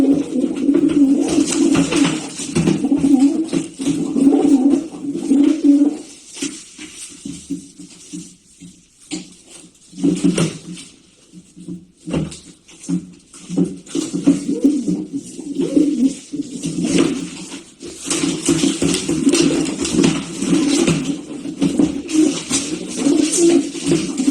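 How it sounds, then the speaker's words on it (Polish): Racing pigeons coo repeatedly in low, throaty bursts, fairly close, with a brief quieter pause midway before the cooing picks up again. "Piękny gołąb."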